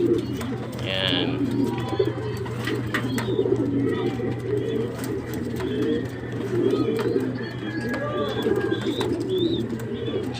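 Domestic pigeons coo repeatedly at a loft where they are kept for flying, a soft rolling chorus over a steady low hum with faint background voices throughout.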